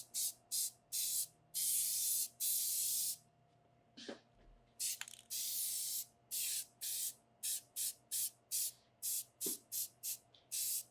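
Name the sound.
spray paint blast on metal sculpture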